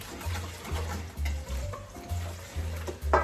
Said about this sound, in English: And you're going to mix this all up again.